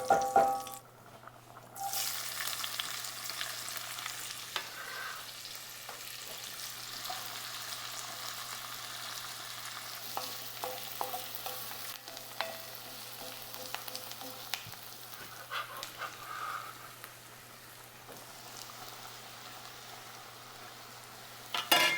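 Chopped onion fries in a pan, giving a steady, soft, close sizzle that continues throughout with occasional stirring scrapes and small clatters, no talking.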